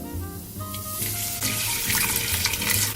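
Chicken broth is poured slowly into a pot, a close, continuous splashing liquid stream that grows fuller and louder after the first second, with no talking.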